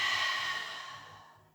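A single breath during a Pilates exercise, breathy and airy, starting loud and fading out over about a second and a half.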